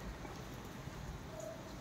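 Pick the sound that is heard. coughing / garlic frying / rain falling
rain falling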